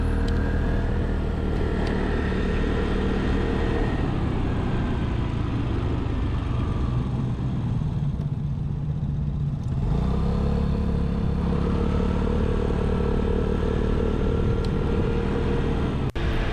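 A 2024 Vespa Primavera S150 scooter cruising at about 55 mph on a 50 mph road, giving a steady engine drone with rumbling wind and road noise throughout, briefly dipping in the middle before resuming.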